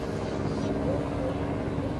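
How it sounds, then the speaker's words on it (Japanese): A helicopter in the video game Jurassic World Evolution drones with a steady, loud rotor hum and engine roar throughout the short moment, with no talking. "あ、ヘリコプター。"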